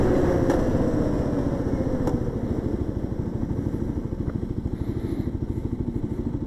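Kawasaki KLX 300 motorcycle engine running in sixth gear, a steady, rapid low thumping drone with even pulses, close and fairly loud, no talk.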